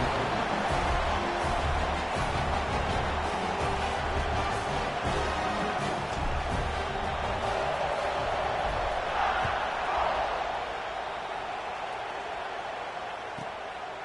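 A football stadium crowd roars steadily in the fourth quarter ahead of a kickoff, a dense wash of cheering that carries throughout and eases slightly near the end.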